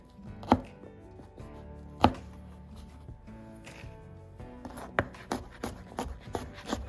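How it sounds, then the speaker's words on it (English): A knife rough-chops garlic on a cutting board in a kitchen: a few sharp, heavy thuds at first, then a quicker run of firm chops, close and clear with no voices. "I like to give the garlic a rough chop"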